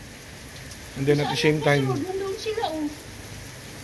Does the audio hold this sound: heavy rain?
yes